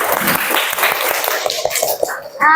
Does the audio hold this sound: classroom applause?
yes